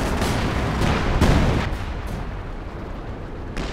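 Long-range artillery fires in the video game Company of Heroes 2, giving several loud booming blasts and rumbling impacts in quick succession, with one heavy detonation standing out and another boom near the end.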